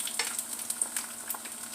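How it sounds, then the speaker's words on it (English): Eggs fry in vegan butter in a pan, a steady close sizzle with frequent sharp spits and crackles running through the whole short stretch, no voices. "I'm frying my eggs here in a little bit of vegan butter."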